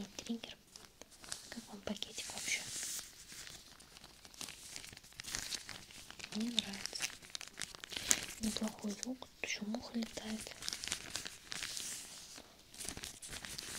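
A soft plastic packet crinkled close to a binaural microphone in a quiet whispered setting, with crisp rustling bursts coming and going amid soft whispering.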